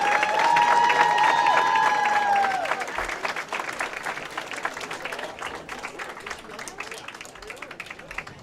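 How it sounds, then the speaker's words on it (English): Audience at the Wisconsin High School Bowling Championships breaking into sustained applause and clapping, loud at first then tapering to scattered claps, with an announcer's voice and a tonal sound at the start. "Let's get a round of applause once more for Indian Trail."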